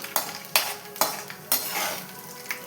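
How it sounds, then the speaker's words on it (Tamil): Chana dal roasting in oil in a pan for poori potato masala, stirred with a utensil: repeated scraping strokes over a steady close sizzle, with no talk. "கடலைப்பருப்பு கொஞ்சம் பொன்னிறமாக வரணுங்க. வறந்த உடனே பச்சை மிளகா சேர்த்துக்கலாம்."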